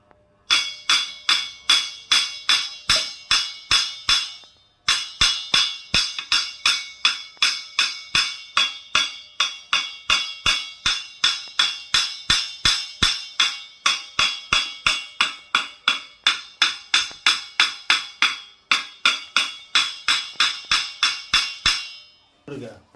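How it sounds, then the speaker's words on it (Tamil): Sharp, bright taps on a wooden thavil drum shell strike in quick, even bursts, repeated for a long stretch with one short pause, crisp and close. "இப்போ தம்பி ஆகாஷனுடைய கட்டையை இப்போ தட்டி காமிச்சு சவுண்டு எப்படின்னு பார்க்க போகிறோம்."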